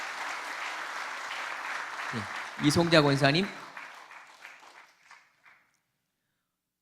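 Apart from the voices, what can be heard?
applause in church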